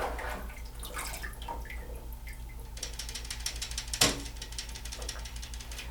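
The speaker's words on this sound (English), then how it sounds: "Set the transport over in the sink. Next, the fixer transport." A roller transport rack from a roller-style film processor being lifted and handled, with ratcheting gear clicks, dripping water, and a sharp clunk midway, set against a steady machine hum.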